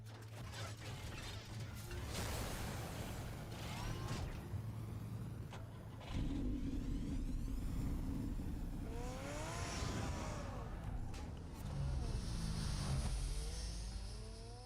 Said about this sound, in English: This car's the Batmobile